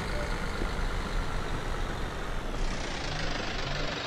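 Isuzu Elf truck in Euro Truck Simulator 2 reversing to hitch a broken-down bus, a dense, steady engine rumble with faint intermittent reversing beeps, loud and continuous throughout.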